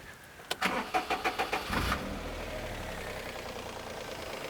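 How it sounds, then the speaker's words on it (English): A 1999 Daewoo Matiz three-cylinder engine cranks with a rapid series of starter pulses for about a second and a half, then catches and settles into a steady, moderately loud idle heard up close. "But let's fire up the engine."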